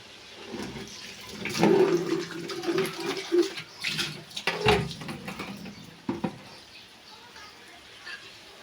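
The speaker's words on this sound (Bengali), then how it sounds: "আম্মু সব কিছু ভালোভাবে ক্লিন করে ধুয়ে নিচ্ছে" Tap water runs and splashes in a home kitchen while beans and sweet pumpkin leaves are washed, with uneven bursts of splashing and clatter close by that fade to a quieter trickle near the end.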